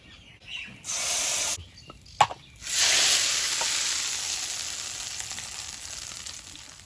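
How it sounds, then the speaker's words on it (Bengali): Hot mustard oil poured into homemade raw mango kasundi sizzles in two bursts, a brief crackle followed by a longer, loud frying hiss that slowly fades, close by with small clinks between. "তেলটা গরম হয়েছে তেলটা এবারে আমি কাসুন্দির মধ্যে ঢেলে দেবো"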